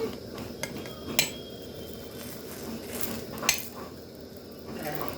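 A metal spatula gives a few faint, sparse clinks and scrapes against a pan while shaping a filled milk patisapta crepe, with quiet kitchen background between the taps.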